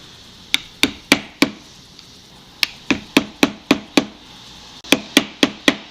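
Sharp hammer strikes driving a part into a Nerf Hammershot toy blaster, three clusters of evenly spaced knocks, four, then six, then four, each crisp and close with quick decay.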